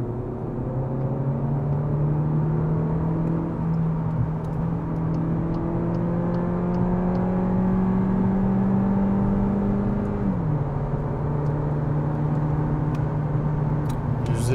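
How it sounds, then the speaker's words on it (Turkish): A 2025 Cupra Leon VZ-Line 1.5 eTSI mild hybrid pulling away at full throttle, its engine heard from inside as a steady rising drone that drops sharply at one gear change, then climbs again, with no talking. "Tam gaz oturdum."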